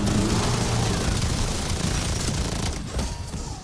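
A light machine gun firing in Black Ops 7 Zombies, a dense, continuous roar of very rapid shots that stays loud and steady before easing slightly near the end.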